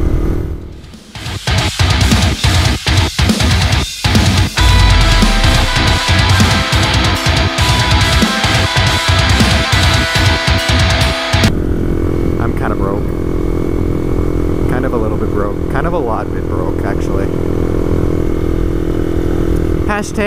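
A Honda CBR125R motorcycle is ridden fast, its engine roaring loudly with strong wind buffeting for several seconds. The roar then falls away to a quieter, steadier hum as someone talks.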